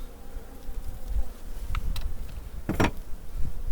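Honey bees buzz steadily at close range at a hive, with a few louder bursts as insects pass near; no talking.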